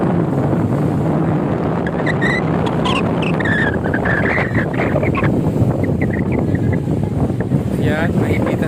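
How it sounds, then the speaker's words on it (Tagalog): Strong wind roars steadily into the microphone on Dolomite Beach, a loud, constant buffeting rush with no pauses, with faint higher sounds from the shore beneath it. "sobrang lakas ng hangin dito guys"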